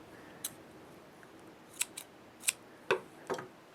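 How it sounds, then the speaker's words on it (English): Small scissors snipping the yarn ends of a pom-pom made with a Clover pom-pom maker, several short, crisp close-up snips at an uneven pace in an otherwise quiet room. "you can just use your scissors to kind of trim those little guys"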